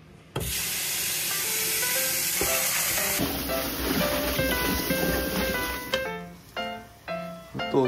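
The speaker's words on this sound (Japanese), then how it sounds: "沸騰したお湯に入れます。" A loud rush of steam hisses up suddenly from water boiling in a pot, holds steadily, then breaks into shorter surging bursts as it settles.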